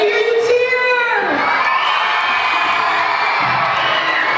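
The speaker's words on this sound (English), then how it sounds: "Let me hear you cheer!" Children at a winter concert burst into loud cheering and whooping: one high shout slides down, then a dense crowd of young voices carries on close and steady.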